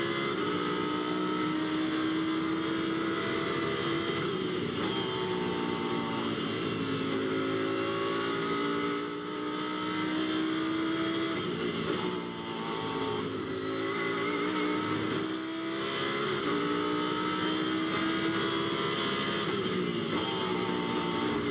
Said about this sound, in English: Bangs it down through the gears, through Stirling's, back onto the loud pedal, up now towards Clearways, heading for the end of the lap